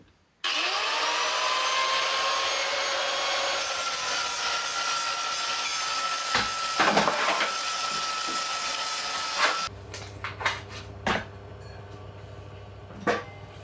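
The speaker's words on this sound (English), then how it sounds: "I simply took some spare metal, cut it to size, and drilled a few holes." A power tool cuts spare sheet metal for front panels in a long, loud, steady grinding whine, then stops abruptly. Sharp knocks and clatter of metal handling follow over a low hum.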